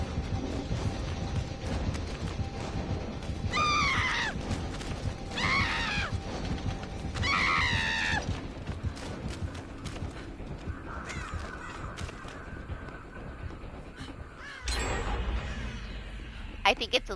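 An injured survivor, Doc, in the Dead by Daylight video game lets out three short strained vocal cries in close succession over a busy, noisy game backdrop.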